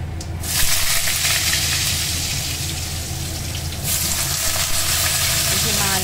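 Potatoes fry in mustard oil in a wok, giving a steady, close hiss and sizzle with a louder burst of spitting at the start and again toward the end.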